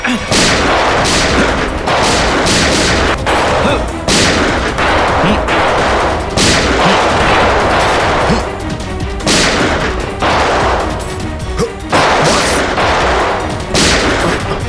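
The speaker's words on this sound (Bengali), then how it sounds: "ফায়ার!" Sustained bursts of gunfire crack through a TV crime drama shootout, loud and close, with repeated volleys and crashing impacts continuing for the whole stretch with no talk over them.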